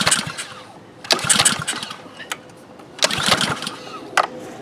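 A stubborn, seldom-used Ryobi pressure washer with a Honda GCV160 engine is pull-started, with two loud bursts of cranking close by that sputter without catching, and quieter pauses between.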